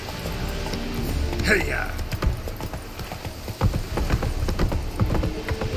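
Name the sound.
horse Roach's hooves in The Witcher 3 video game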